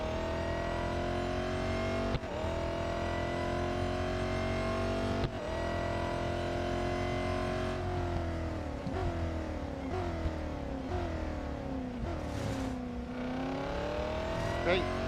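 Race car engines in the mobile racing game Real Racing 3 drone continuously, with the pitch dropping and climbing through gear shifts and corners over a steady mid-level hum.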